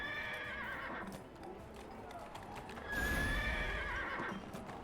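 A horse in the video game Neverwinter whinnies twice, a long neigh at the start and another near the three-second mark, with a light clip-clop of hooves in between, close and clear against a soft game background.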